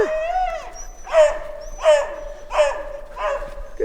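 Excited dog during a training demonstration, giving four evenly spaced yelping barks close by, with someone speaking and whistle-like tones carrying in the background.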